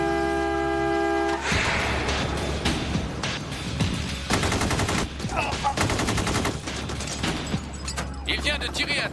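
A video game gunshot is fired through a car windshield, heard as loud sharp bursts under a synthetic tone and busy game noise, with voices talking.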